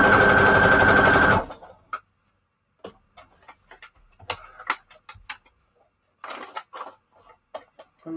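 A sewing machine hums steadily for a moment, then sews a straight stitch on junk journal pages as a series of sparse, uneven ticks and clicks, close and without voices.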